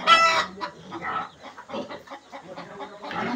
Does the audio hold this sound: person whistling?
no